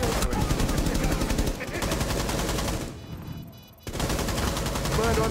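Rapid bursts of automatic gunfire from a Rainbow Six Siege match on Xbox One, loud and dense, with a brief muffled lull in the middle before the shooting resumes at full force.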